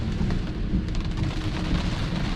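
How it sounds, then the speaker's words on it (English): Heavy downpour hitting a car windshield during a drive, a dense, constant wash of rain with a low rumbling undertone, steady and close throughout with no talking. "there's so much rain on the windshield"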